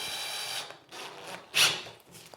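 Cordless drill driving soft screws through a pilot hole while a door is hung, heard as three short whirring bursts with gaps between, the last one louder and sharper, close by with no talking.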